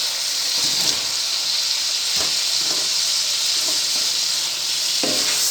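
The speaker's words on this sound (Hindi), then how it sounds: "आलू को 5 से 10 मिनट तक भूनते हैं" Potatoes sizzle and fry steadily in a spiced masala in a pot for a Hindi-style palak gosht preparation, a continuous close hiss with a few soft stirring clatters and no talk.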